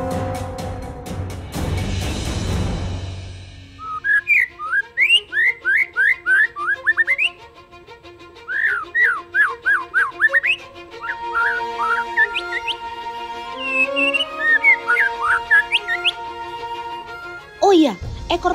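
A white-rumped shama (murai batu) sings a long run of bright, varied whistled phrases, sharp rising notes repeated in quick bursts with short pauses between them, loud and close. A brief noisy clatter comes just before the song starts.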